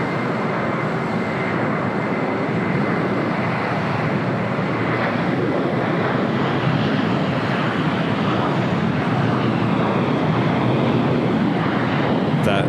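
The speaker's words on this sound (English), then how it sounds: "That is Asiana, the A380 Super, heading back to Seoul," Asiana Airbus A380 taxiing on a taxiway at LAX, a steady, broad engine rumble and roar holding evenly throughout with faint wind noise, no voices.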